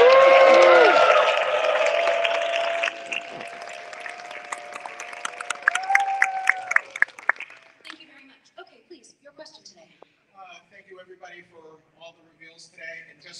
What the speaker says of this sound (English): So I need everybody to cheer while I take this video